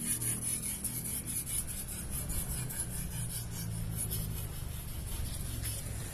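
A butcher knife scrapes back and forth on an Imanishi Arashiyama 6K Japanese whetstone, a close, continuous rasping rub with a rhythmic stroke pattern and no speech.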